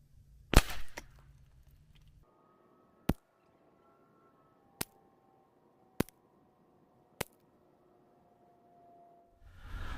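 Rifle shots from a Bergara B14R fired with Eley Contact ammunition at a 100-yard range, a sharp report followed by four more single cracks spaced a second or two apart, loud and distinct over quiet background.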